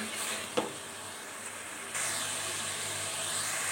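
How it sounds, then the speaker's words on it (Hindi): Garlic ginger paste sautéing in a hot pan gives a steady, close sizzling hiss that swells louder partway through, with a brief clink near the start and no talking. "अब हम इसमें लहसुन अदरक का पेस्ट ऐड कर देंगे, और लहसुन अदरक को भी सही से सौते करेंगे।"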